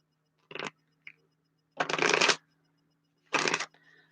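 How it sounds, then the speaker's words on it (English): Tarot cards being shuffled up close in three distinct riffling bursts, the first short, the next two longer and fuller, separated by quiet gaps with a faint tap between, over a low steady hum and with no talking. "they told me to shuffle those cards"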